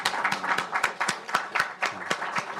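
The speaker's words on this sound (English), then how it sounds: "A round of applause." Audience applause at the close of formal remarks at a UN Economic Commission for Africa event, a sustained round of clapping with no one speaking over it.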